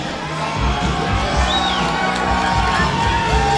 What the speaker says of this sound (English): look at the crowd here, and the crowd is phenomenal